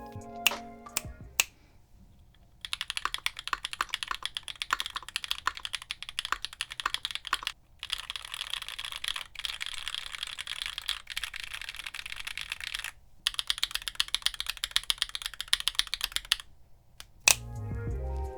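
Lubed, modded Bolsa Supply Namazu long-pole switches typed on in a Polaris keyboard, with bursts of rapid, crisp clacking broken by brief pauses, a couple of isolated thocks at the start and end, close and clear with no talking.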